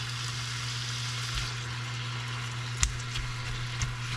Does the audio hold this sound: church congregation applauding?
no